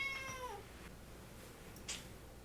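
A cat lets out a short, close meow at the start, followed by a quiet room with a faint later chirp.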